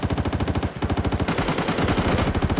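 Rapid automatic gunfire in the video game Arena Breakout rattles nonstop at close range, a fast, steady burst with a brief stutter partway through, loud and alone.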